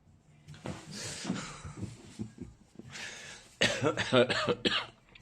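Several harsh coughs from a person with a cold, in bursts, close by, with raspy throat-clearing between them and a louder cluster of coughs toward the end.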